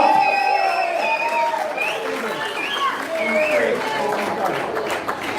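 Crowd cheering and applauding at a brutal chilli eating contest, with loud shouts and whoops over steady clapping throughout, dense and close.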